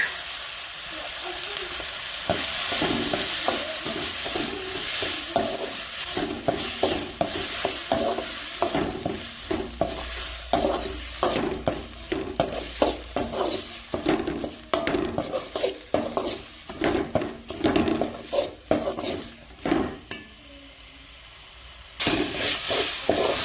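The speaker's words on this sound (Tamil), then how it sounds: "இஞ்சி பூண்டு நல்லா பச்சை வாசனை வரைக்கும் வதக்கலாம்." Ginger and garlic sizzle in a pan for a goat head fry, with a spoon scraping and stirring in a busy, repeated rhythm throughout, briefly easing near the end before picking back up.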